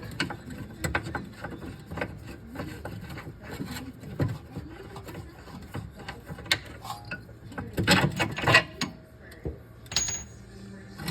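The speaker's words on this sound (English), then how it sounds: "this is the removal of the rear bolt" A 21 mm wrench working the rear suspension bolt on a Tesla Model Y or Model 3: irregular metallic clicks, ratcheting and rubbing at close range, with a louder cluster of clanks near the end.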